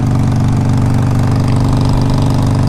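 A 2007 Harley-Davidson 883R motorcycle engine runs steadily at idle, a loud, close, throbbing low rumble with an even pulsing beat and no voices over it.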